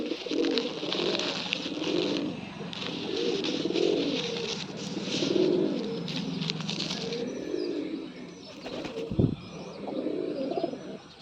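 Pigeons coo in repeated throaty, rolling phrases at a steady rhythm, with faint chirps and a brief wing flap or knock near the end.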